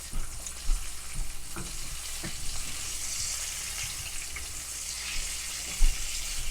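Pork chops sizzle and fry in a pan for smothered pork chops, a steady hiss broken by a few clunks of silicone tongs against the pan.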